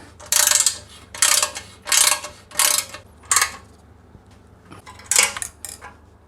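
A torque wrench ratchets the two front bolts of a bash plate on a 2021 KTM 390, up close, in about six short bursts of rapid clicking separated by brief pauses.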